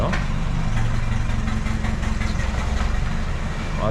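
A Nissan Navara engine idles with a slight knocking, a steady close rumble that holds at an even level throughout, with no talking over it.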